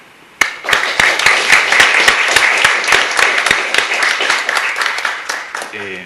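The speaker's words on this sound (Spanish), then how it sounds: "pido desde ya un aplauso" An audience applauds after a speaker's call at the opening of a lecture series, a dense run of claps with sharp individual strikes standing out, loud and steady for about five seconds before tapering off.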